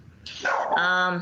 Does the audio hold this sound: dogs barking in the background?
yes